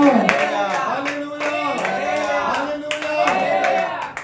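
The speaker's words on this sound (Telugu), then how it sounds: "చప్పట్లు కొట్టి దేవుని మహిమపరచండి" A church congregation at a Sunday service claps in a steady rhythmic beat, sharp regular hand claps under someone singing or chanting loudly over them.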